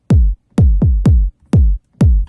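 Six deep, muffled double kick drum thumps in a house track land in a loose double-hit pattern, each with a soft, filtered attack and a quick boomy decay, lowered in volume.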